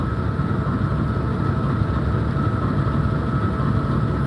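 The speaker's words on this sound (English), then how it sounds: "Engines have been low idling for a little while here." Amtrak California Zephyr diesel locomotives idle low at a station stop in Ottumwa, Iowa, a steady deep rumble with constant engine drone and no voices.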